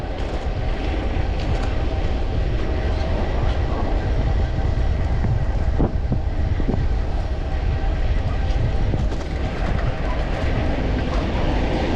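Steady loud rumble of a train on a railway line running beside a bike route, a continuous roar with rattling wheels and faint clanks throughout, heard close and without pause.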